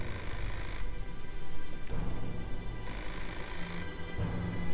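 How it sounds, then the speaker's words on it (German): A telephone rings in the video game Fahrenheit, with two long bursts of electronic ringing separated by a short pause. The rings sound clear and close and play over a low background hum with no speech. "Ich gehe nur schnell ans Telefon."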